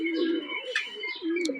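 Close, clear cooing of pet pigeons, including newly raised young birds let out for the first time, with several low, throaty coos in a rolling rhythm and a few higher chirps between them.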